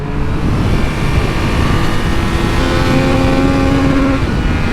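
A Triumph Speed Triple RX motorcycle engine revs hard up to the limiter, a loud, sustained, steady roar with a rising pitch and no talk over it.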